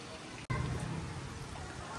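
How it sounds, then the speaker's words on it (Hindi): Steady rain of the season's first shower falls outdoors, a soft, even hiss that starts after a brief dropout and continues throughout, fairly close, with no talking. "ये इस सीज़न की पहली बारिश है"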